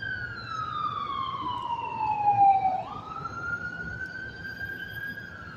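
A passing ambulance siren wails in a clear, loud, steady sweep, its pitch dropping as the vehicle nears and then jumping lower as it moves away, over a low rumble of street noise.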